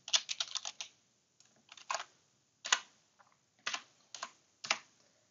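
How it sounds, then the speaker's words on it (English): Quiet, close clicking of fingers typing on a computer keyboard, coming in short irregular bursts of keystrokes separated by brief pauses, with no talking. "I can do that just by simply typing"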